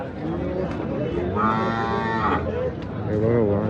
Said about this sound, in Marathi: हे बघा वासरू.